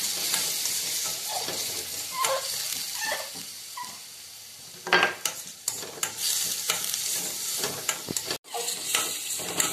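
A spoon stirs crushed garlic, shallots and green chilies frying in a pan for a papaya dish, giving a soft sizzle with scraping strokes and a few louder clatters near the end.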